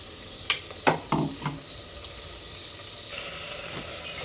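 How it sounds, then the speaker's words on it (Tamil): Ginger garlic paste sautés in oil with onions, giving a few close stirring scrapes and clatters early on, then a soft continuous sizzle. "அந்த இஞ்சி பூண்டு பேஸ்ட்டு கொஞ்சம் எண்ணெயில் வதங்கிடுச்சு"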